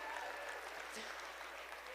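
Gala audience applauding donors: a steady, faint wash of clapping heard from a distance throughout, without pause.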